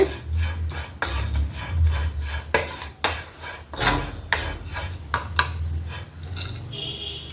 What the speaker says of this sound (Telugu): ఇలా వేగుతున్నాయండి, కొంచెం కలర్ చేంజ్ అవుతున్నాయి ఇప్పుడే.